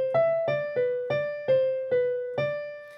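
Piano plays the slow melody line of Satie's Gymnopédie No. 1: seven gentle sustained notes struck one after another at a calm, even pace, close and clear with no talking.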